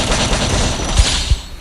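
Gunfire in the Garena Free Fire battle royale game, a steady rattle of rapid shots with a few sharper, heavier bangs standing out near the end, loud and close with no talk.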